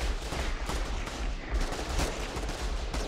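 Shotgun blasts in the video game Dead Harvest, with heavy shots firing almost without pause in a loud, chaotic barrage, and no talking.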